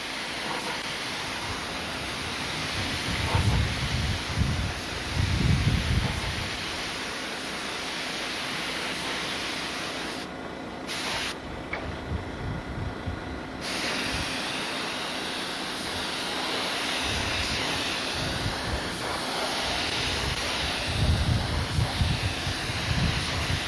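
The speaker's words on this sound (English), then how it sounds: "the wind starts blowing" Wind blows outdoors in broad, rushing gusts that rise and fall over a steady roar, with heavier low buffeting at several moments and no talk.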